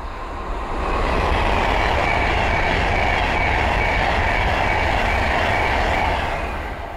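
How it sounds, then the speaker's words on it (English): A Class 390 Pendolino train rushes past close by at Linslade on the West Coast Main Line, a loud steady roar of wheels and rail noise that swells in quickly and holds throughout without a break. "Okay, the next train to pass by is the West Coast Class 390 Pentalino."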